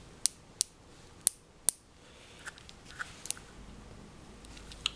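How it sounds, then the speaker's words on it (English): Turrets on a Stoeger X20 3-9 scope clicking as they are turned: four crisp, evenly spaced clicks up close, followed by a few softer, irregular clicks. "The turrets are click type. They're well damped."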